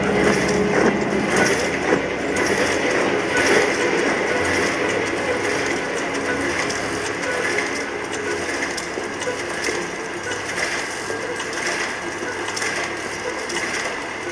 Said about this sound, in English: Gears keep spinning on and on. Rotors on and on.